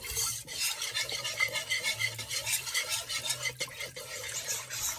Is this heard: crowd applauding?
no